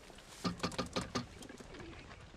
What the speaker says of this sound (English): Most of these birds look like they can fly halfway around the block.